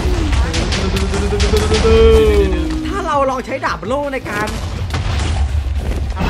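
Rumbling booms from an explosion in a modded Minecraft game as a cabinet is blown up, a steady roar under excited talking, with the loudness swelling and dipping over several seconds.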